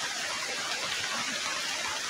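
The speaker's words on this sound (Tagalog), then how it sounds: "palakas na po yung hangin, tapos ulan" Rain falling in strong wind, a dense, loud and continuous broadband rush with no pauses.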